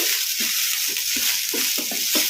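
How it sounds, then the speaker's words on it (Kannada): Soya chunks for a masala curry fry over a high flame while being stirred in a pan. A loud, steady sizzle runs throughout, close up, with repeated scraping strokes of the spatula roughly every half second. "ಈ ಥರ ಕಲಿಸ್ಕೊಂತ ಫ್ರೈ ಮಾಡ್ಕೋಬೇಕು ಒಂದೆರಡು ನಿಮಿಷ ಹೈ ಫ್ಲೇಮಲ್ಲಿ"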